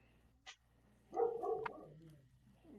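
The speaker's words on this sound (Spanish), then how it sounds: "el perro, el perro" A dog barks faintly in the distance, a short yelp and then a brief cluster of barks, in a quiet room.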